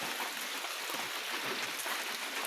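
Steady rain falls through a forest during a mushroom-foraging trip, a dense, even hiss of drops on leaves and ground with no break across the whole stretch.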